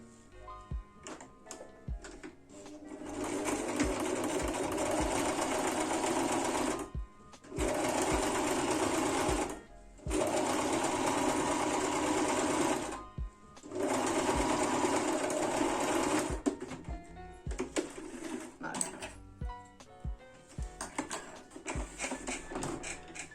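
A sewing machine stitches the bottom seam of a fabric tablet case in several loud, even bursts of rapid mechanical whirring, each a few seconds long, separated by pauses filled with ticking and handling of the cloth.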